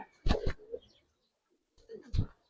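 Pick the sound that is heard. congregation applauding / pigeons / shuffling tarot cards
pigeons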